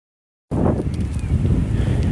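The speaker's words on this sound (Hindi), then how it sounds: "ठंडी हवा चल रही है" Cold night wind blowing along the seafront in Qatar, a steady broadband rush that starts abruptly and keeps up loud, buffeting the microphone with gusty low rumble throughout.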